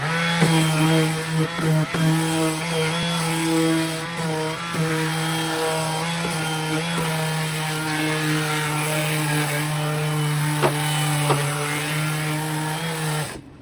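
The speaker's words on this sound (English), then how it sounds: "I'm just going to give her a bit of a sand so I don't cut myself on the edges here." Steady mechanical whirring with a low drone, like a power sander running continuously up close on textured melamine edges, with small shifts in pitch as it works.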